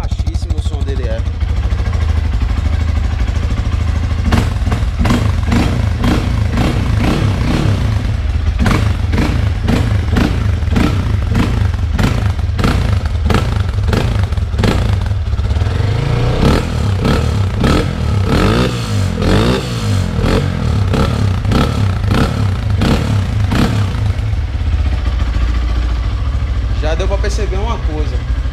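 Motorcycle fitted with a cheap aftermarket exhaust, idling loud and close with a pulsing, clattery low throb and occasional blips of throttle, while people talk over it throughout.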